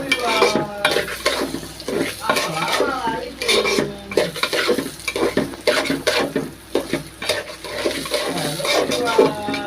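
Raw rice is dry-fried and stirred in a pan at home, with a utensil scraping and clinking busily against the metal over a faint sizzle, in an uneven, continuous rhythm.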